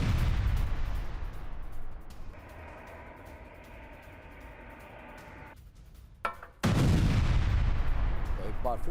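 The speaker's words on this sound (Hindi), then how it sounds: "यूक्रेनी सैन्य वाहनों पर इस बार यह बमबारी की गई है।" Russian ZALA drone strikes bomb Ukrainian military vehicles, tanks and artillery guns in the Donetsk area: a rough, rumbling wash of blast noise followed by a sudden loud burst near the end.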